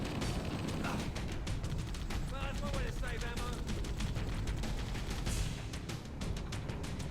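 A hover vehicle's machine gun turrets fire in Cursed Halo, a modded Halo game. The rapid fire runs steadily throughout, with someone talking briefly over it.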